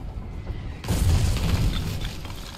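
Howitzer artillery shelling in the Foxhole war game: a heavy, loud boom lands suddenly after a quiet moment, followed by a rumbling, debris-filled decay.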